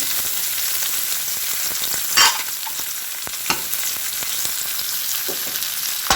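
White onion dropped into hot oil with ginger already frying for a pesang pampano, a bright continuous sizzle with a sudden burst as it lands, followed by scattered stirring taps.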